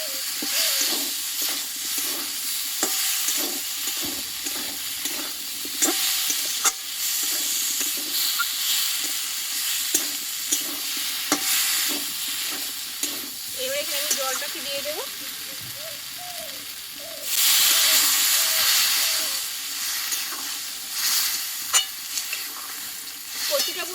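A small fish and taro curry with slit green chillies sizzles and hisses in the pan, with stirring scrapes and a louder burst of frying near the end, while a voice talks faintly at times.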